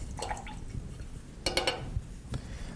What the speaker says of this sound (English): So rinse your brush